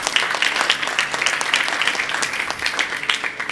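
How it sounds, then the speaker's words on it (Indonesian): An audience of theology students applauds at a Bible service, brisk scattered clapping with sharp individual claps standing out, loud and continuous for a few seconds with no talking. "Anda di rumah boleh tepuk tangan dan di sini juga boleh tepuk tangan."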